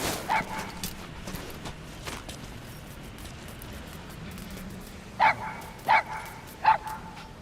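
Dog barks in Metal Gear Solid V: The Phantom Pain: one short yip near the start, then a quick run of three sharp barks toward the end over a quiet low background hum.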